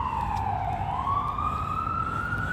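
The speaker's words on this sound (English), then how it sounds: "It's not New York without sirens." A wailing emergency siren sweeps through a New York City street at night, rising and falling loudly over steady traffic rumble, with no voices.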